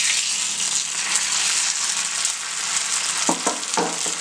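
Hot coconut and cumin tempering poured into a pot of cooked jackfruit erissery, a strong steady sizzle and crackle of frying throughout with a few brief stirring knocks near the end.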